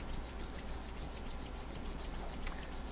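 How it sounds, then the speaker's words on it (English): Two hands rub together during a chi gung and tai chi session, giving a steady soft dry friction that runs continuously and faintly throughout, with no talk. "then rub the hands together"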